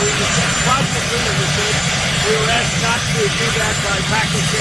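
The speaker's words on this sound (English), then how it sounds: "I apologize for the helicopter noise behind this comment" A helicopter drones steadily in the background, a continuous rotor-and-engine wash that runs underneath a man's speech for the whole stretch.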